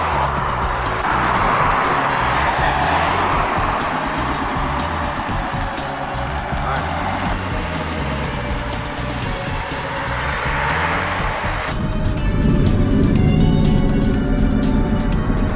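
A wrecked Aston Martin Vantage is driven gently during break-in, its engine a steady droning hum under cabin and road noise, rising a little louder and rougher near the end.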